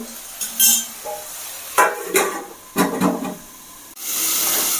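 A lid goes onto a pan of ridge gourd and potato cooking for a posto dish, with several sharp metallic clanks and scrapes, followed by a steady close hiss of steam and sizzling.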